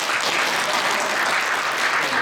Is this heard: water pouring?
no